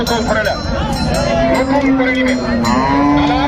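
Haryana bullocks at a busy cattle market: one long, low, drawn-out moo rings out close by over crowd noise and nearby talking.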